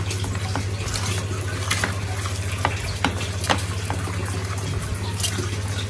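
A spoon stirring a wet Carophyll fish pellet mixture, repeated scraping and squelching strokes with small clicks against the bowl over a constant low hum, no voices.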